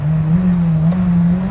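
A 2.1 litre supercharged and turbocharged Lancia engine runs close and loud, a steady low drone whose pitch wavers only slightly throughout.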